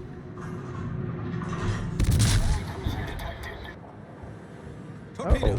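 Naval guns fire in a warship battle video game, a heavy boom around the two-second mark with rumbling blasts after it and another burst near the end, all over a steady low battle drone.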